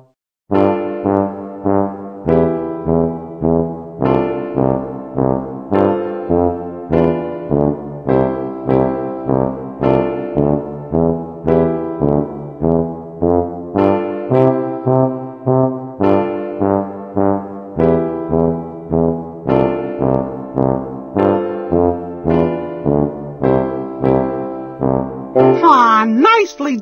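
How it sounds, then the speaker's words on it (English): Tuba plays a steady run of low, round notes in a repeating pulsing rhythm, loud and close, with a brief burst of other sound at the very end. "Yes, that's a tuba."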